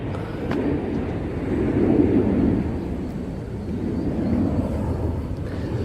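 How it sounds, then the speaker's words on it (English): An aeroplane takes off somewhere beyond a residential property, a low distant rumbling roar that swells and eases over several seconds, steady with no voices. "Aeroplane taking off."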